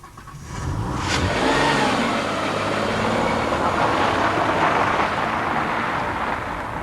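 A Peugeot 605 with a 24-valve, 200 horsepower engine pulls hard, its smooth engine note rising and holding strong and steady for several seconds, loud and close with no talking.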